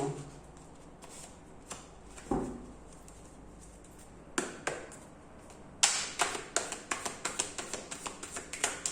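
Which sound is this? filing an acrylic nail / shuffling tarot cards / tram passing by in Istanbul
shuffling tarot cards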